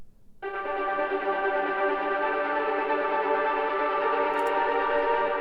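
Sustained trance synth line drenched in full reverb, a dense, washed-out chord tone entering after a brief quiet start and holding steady and loud to the end, with no talk over it.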